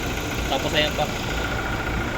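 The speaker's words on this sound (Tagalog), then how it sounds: "Ayun na pa siya umaandar, tahimik yung makina niya." A 2021 Toyota Fortuner idles quietly at an auction lot, a steady low engine hum running under a brief spoken remark.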